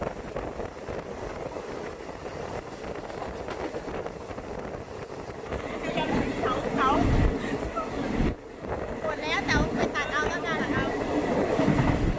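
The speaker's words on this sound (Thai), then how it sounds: "รถไฟกำลังมา" A train rumbles in on the Death Railway in Kanchanaburi, Thailand, growing louder with rising wind-like roar and metallic squeals toward the end, amid outdoor background noise.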